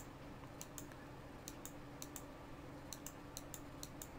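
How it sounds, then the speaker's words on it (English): Quick, light clicks of a computer mouse, pressed over and over in small irregular clusters, sound faint and close against a soft background hiss with no voices. "you can probably hear that I'm clicking multiple times"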